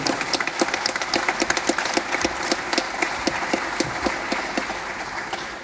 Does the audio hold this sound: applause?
yes